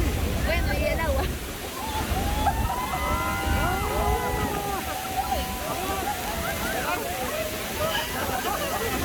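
Iguazú Falls roars as a loud, constant rush of falling water, with people talking and calling out over the heavy spray.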